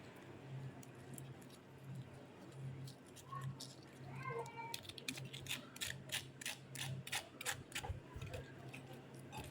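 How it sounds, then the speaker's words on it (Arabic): Crispy fried chicken wings being crunched up close, a string of sharp rapid crackles and crunches in the second half over a steady background hum, with voices talking earlier. "هسيبكم بقى مع اللي انا مع القرمشة دي وصوت القرمشة"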